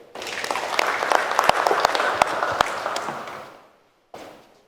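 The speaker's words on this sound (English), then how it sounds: "A round of applause for him again." Audience applause at a formal MOU signing ceremony between a medical company and a study group, a dense burst of clapping with sharp individual claps that fades out, followed by a brief final swell.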